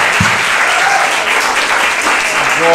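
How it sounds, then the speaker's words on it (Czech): A church congregation claps for the worship team in a steady, dense burst of applause that fills the whole stretch, with a faint voice or tone emerging near the end. "let's give a big hand to the worship team."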